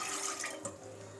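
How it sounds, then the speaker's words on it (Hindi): Water poured into a pot at home to start making kahwa tea with cardamom and sugar, a steady close splashing stream filling the vessel for just over a second, with no talking. "सबसे पहले हमने पानी डालना है कहवा बनाने के लिए।"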